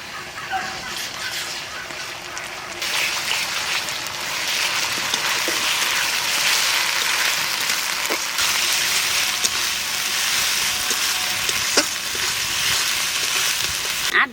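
Ginger-garlic paste fries in hot oil for a desi chicken curry, a loud, steady, close sizzle with a few faint stirring clicks and no voices.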